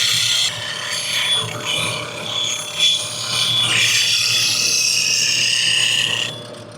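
Bowl gouge being sharpened on a bench grinder, a steady bright grinding rasp of steel against the wheel with a constant low motor hum, fading out at the end.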